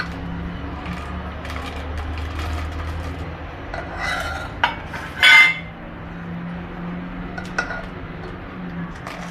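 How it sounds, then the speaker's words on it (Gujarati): A spoon stirs and mixes dry fruit shrikhand flavored with cardamom, almonds, raisins and cashews, giving a soft continuous scraping rasp against the bowl with a few louder clinks near the middle. "હવે એક સરખું આપણે મિક્સિંગ કરી લેવાનું છે"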